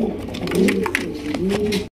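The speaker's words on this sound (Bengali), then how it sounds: "এখানে রয়েছে একজোড়া মাক্সি রেসার কবুতর" A pair of light-coloured Maxi Racer pigeons coo at close range in a brief series of soft, throaty, rolling calls.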